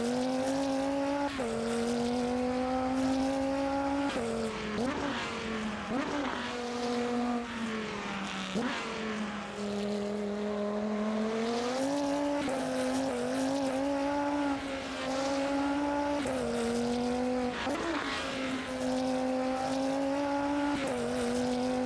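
Race car engine heard from outside in a racing sim video game, a loud, echoey roar that climbs and drops repeatedly as the car shifts gears, continuous throughout.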